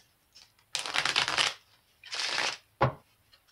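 Tarot cards shuffled by hand at close range: two riffling bursts of crisp papery flutter, then a single sharp snap as the deck is squared, in a quiet room.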